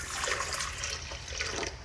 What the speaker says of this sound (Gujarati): હવે એમાં હું પાણી રેડીશ